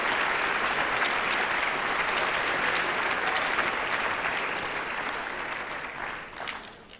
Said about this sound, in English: Let's give him a round of applause for his service as our mascot.